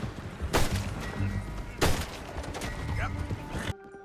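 Gunfire in the video game Red Dead Redemption 2: two loud, broad blasts about a second apart ring out over a busy, rumbling background with a horse and voices mixed in.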